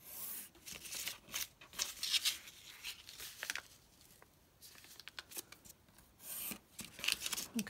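Scissors snip and slide through book cloth being trimmed around a board, a series of irregular crisp cuts and rustles close by, with bursts of snipping broken by brief quieter pauses.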